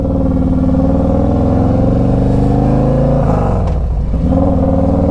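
Harley-Davidson Street Glide Special FLHXS V-twin engine revving close up, a loud, throaty, continuous rumble with rising and falling pitch and a brief throttle blip near the end.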